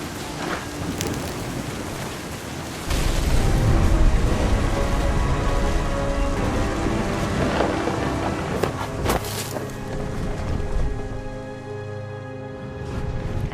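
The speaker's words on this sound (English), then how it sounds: "The thunder sounded much too close and full of angry power" Heavy rain pours steadily in the adventure game What Remains of Edith Finch, with dull rumbles of thunder rolling beneath the downpour and a few sharp cracks standing out. No one speaks.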